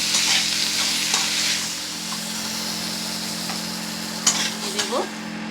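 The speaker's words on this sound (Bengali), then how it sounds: "নুন হলুদ দিয়ে আলুগুলোকেও আমি ভেজে নিচ্ছি" Potatoes frying with salt and turmeric in a pan for a Bengali potol chingri dish, a loud, even hiss of oil with a low steady hum beneath and a few scrapes and clinks near the end.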